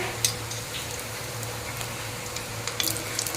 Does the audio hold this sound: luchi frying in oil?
yes